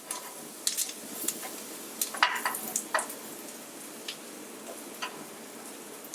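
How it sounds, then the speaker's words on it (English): Risotto rice popping and sizzling in a pan, with quick crackling ticks scattered irregularly at moderate closeness, plus occasional stirring scrapes and no talk. "This popping sound is a great sound to tell you that the rice is almost ready."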